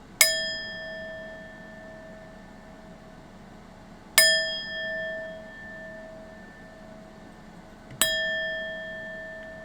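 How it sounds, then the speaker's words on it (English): A sound bell is struck three times at even intervals of about four seconds, each clear, bright ring decaying slowly into a quiet room. "I'm going to ring this sound bell 3 times"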